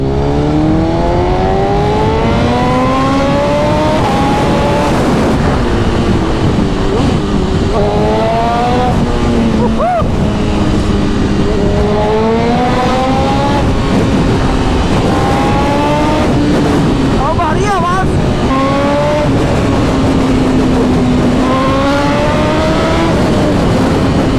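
A motorcycle engine with a newly fitted exhaust revs loudly and repeatedly on the road, rising and falling through gears in a continuous, close, aggressive roar.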